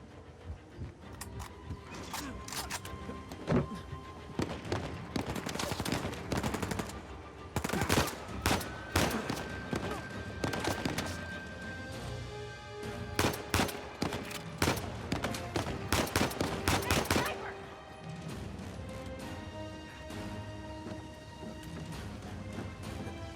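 Gunfire in the video game Uncharted 4, with bursts of sharp shots and rattling automatic volleys coming in clusters, loud and close over game ambience.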